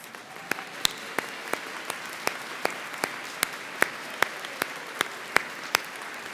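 Applause for college alumni standing at a Central Lakes College commencement ceremony in Brainerd, a steady crowd patter under a run of sharp, evenly spaced loud claps from one nearby person.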